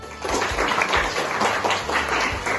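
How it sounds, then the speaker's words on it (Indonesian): A classroom group claps together in steady applause during an Islamic religious studies lesson, a dense burst of hand claps held for a few seconds with no talking over it. "Oke, tepuk tangan semuanya."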